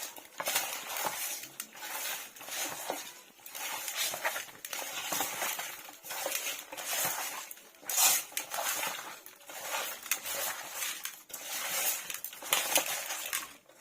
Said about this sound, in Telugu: ఇవన్నీ ఒకసారి నేను మిక్స్ చేసుకుంటానండి.